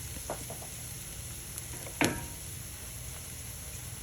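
An egg fries in a cast iron skillet with a steady, soft sizzle and crackle, close by, with a few faint clinks and one sharp knock partway through; no talking.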